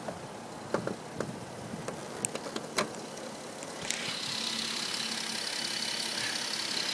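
A 2011 Jeep Wrangler Rubicon with a 3.8 liter V6 sits running, a low steady engine idle behind a few clicks and knocks, then a broader rushing hiss rises and holds through the rest.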